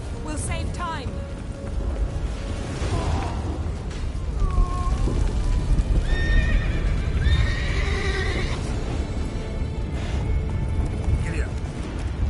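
In The Witcher 3: Wild Hunt, a horse whinnies several times over steady clip-clopping hooves and a dense rumble of game ambience, with voices talking over it.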